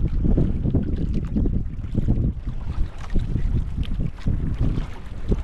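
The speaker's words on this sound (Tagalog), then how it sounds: "Lakas na yung amihan." Strong northeast monsoon wind (amihan) buffets a boat at sea, with gusty rushing wind noise and sloshing water that rise and fall continuously.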